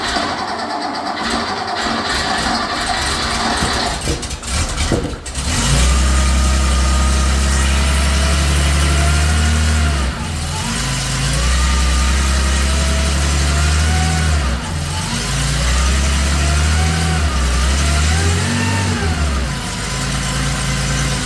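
A rebuilt air-cooled Porsche engine on a test stand catches after a rough start, then settles into a loud, steady idle nearby, broken by several short revs that rise and fall before it returns to a throbbing idle.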